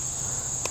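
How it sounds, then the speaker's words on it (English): Insects, likely crickets, buzz in a steady high-pitched chorus outdoors at night, with a faint low rumble beneath and no voices. "if these bugs don't calm down, I've got to call it a night."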